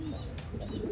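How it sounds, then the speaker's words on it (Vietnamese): A female pigeon coos softly, a low murmuring call heard faintly over quiet background hiss, with a brief higher chirp partway through. "đây là con chim bồ câu mái"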